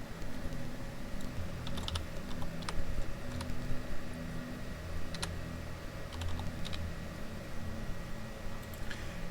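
Typing on a computer keyboard while entering text into a Microsoft Excel find-and-replace box, a quiet, steady patter of key clicks with a few sharper taps, heard alone against faint background hiss.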